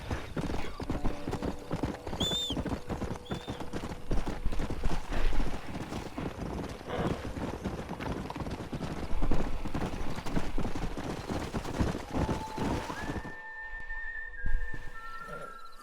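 Horse hooves clip-clopping in the Western video game Red Dead Redemption, a steady trotting rhythm with occasional whinnies and whistles, ending with a brief tonal game sound.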